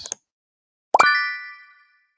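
A like button sound effect: a short soft pop, then a bright ringing ding that decays over about a second, loud and alone.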